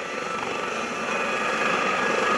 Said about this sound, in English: I hope you never have to ride a helicopter like that in a case of distress